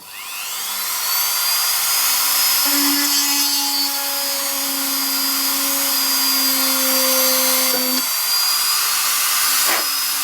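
A power drill whirs with a steady high whine for about ten seconds, revving up at the start and briefly dipping near the end.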